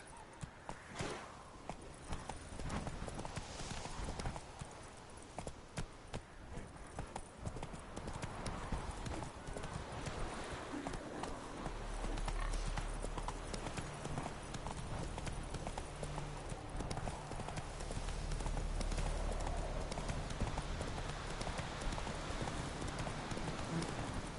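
Steady, rapid clip-clop of the horse Roach galloping in The Witcher 3, with hooves pounding continuously over a dense bed of wind and ambient game noise throughout.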